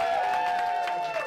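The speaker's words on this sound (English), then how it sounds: "Give Wilfred a huge round of applause." A small theater audience at a magic show gives a volunteer a round of applause after a card trick, with dense, continuous clapping and a voice talking over it.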